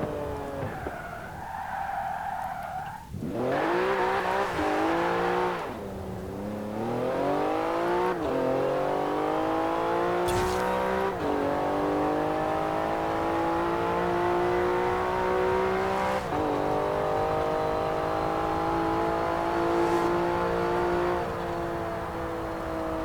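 A Porsche racing in the Forza driving game, its engine holding a steady, loud high drone with rising revs and gear shifts, tires skidding and squealing early on, no talk.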